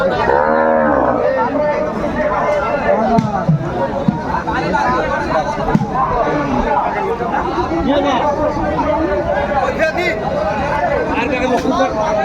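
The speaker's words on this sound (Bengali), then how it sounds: "গাভী বাছুর আমরা দেখছিলাম এখানে" Cows and calves moo among a busy crowd of chattering voices and haggling over prices, with people talking close by throughout, at a noisy outdoor cattle market in Bangladesh.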